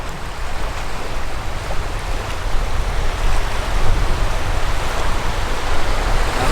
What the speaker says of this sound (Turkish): Bayağı da dalgalı bugün.